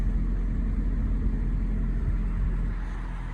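A 2001 Vauxhall Corsa 1.2 SXi engine idles just after starting, a steady close low hum and rumble that eases slightly toward the end, with no voices.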